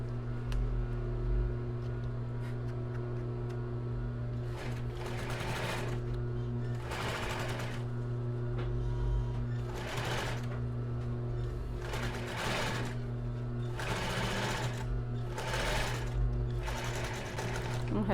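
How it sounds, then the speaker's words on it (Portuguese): Sewing machine stitching the cross-front base of a bra, running in repeated loud bursts of a few seconds each over a steady low motor hum, with short pauses between runs. "E já vou começar costurando o outro lado do taquara."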